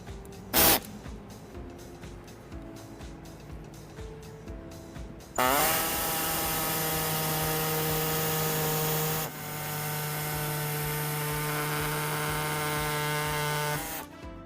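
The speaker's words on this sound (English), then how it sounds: "we do have our air saw, so we'll be using that to do it today" Pneumatic air saw cutting through the plastic front fascia of a 2013 Ram 1500 for a front-mount trailer hitch, a loud steady buzzing rasp running in two long bursts after a few brief clicks.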